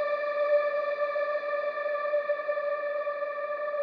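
Angelic synth pads drenched in reverb, a sustained bright chord held steady and smooth with a chorus-like shimmer in a progressive house track, with no talking over it.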